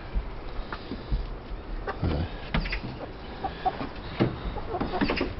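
Hens clucking softly inside a stripped-out car converted into a chicken coop, with scattered short clucks and scratching over a low steady background.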